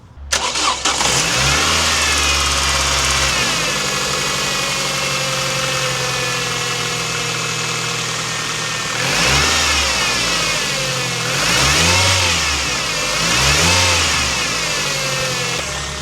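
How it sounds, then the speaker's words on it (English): A van engine idles steadily close by with a thin constant whine from the power steering pump above it, briefly revving a few times near the end. "there is a whining noise, I don't know if you can hear it, that I think comes from the power steering pump."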